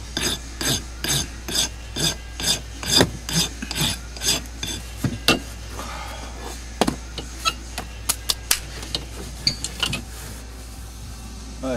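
Rasp filing wood while carving a bear, a run of rhythmic rough strokes at a steady pace. Sharper, sparser scrapes and taps follow, close and clear.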